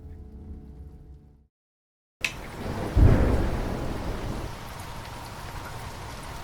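A thunderstorm with steady rain: a loud thunder crash rolls in after a brief silence, then fades into a continuous rain wash with no one speaking.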